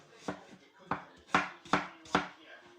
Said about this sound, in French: Alors, je coupe en deux. Et je coupe en quatre.